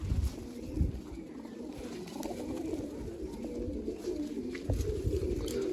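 Low, soft coos from pigeons in a coop repeating close by, with faint rustling in the background.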